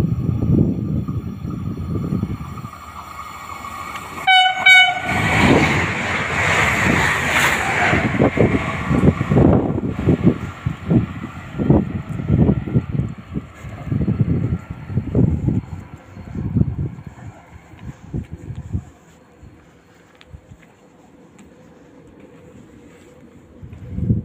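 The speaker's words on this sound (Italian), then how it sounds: "Il treno passeggeri prosegue la corsa in direzione Arona." A passenger train rumbles past nearby at Varallo Pombia station on the Novara-Arona line, Italy, with a rhythmic clatter of wheels over rail joints, a brief high squeal, then fades into wind noise.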